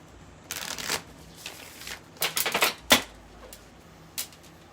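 Tarot cards are shuffled by hand in a quiet room, several quick riffling bursts and soft snaps of the deck close to the listener, with no talking.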